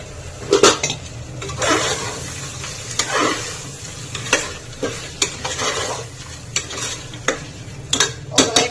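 Green peas go into a pan of soya chunk pulao masala, with clinking utensils, stirring scrapes and a low sizzle, all close and irregular, with no speech.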